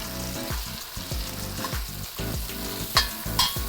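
Shrimp frying in oil in a hot wok give a steady loud sizzle, with scraping stir strokes and occasional sharper clinks, close up and without speech.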